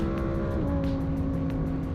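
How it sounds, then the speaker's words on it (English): A Lamborghini V10 revving hard near the top of its rev range, a loud sustained scream with a rising tone and a gear-shift step partway through, close and continuous. "As that car reaches the top of the rev range, everything inside of you is vibrating as that V10 absolutely screams"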